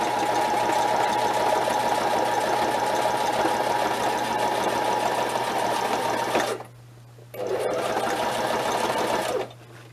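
Sewing machine stitching straight along a black marked line on a rucksack project, a loud, close, steady whirring run of about six and a half seconds, a brief stop, then another two-second burst, with no talking.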